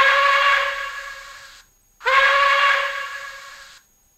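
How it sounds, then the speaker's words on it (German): Two short steam whistle toots from a PIKO N-scale BR 82 steam locomotive model's sound system, each under two seconds, bright and hissy, separated by a brief pause. "F2 Dampfpfeife kurz."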